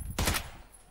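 A single gunshot bursts out loud and close in the video game PUBG, a sharp blast that rings briefly before fading into background noise.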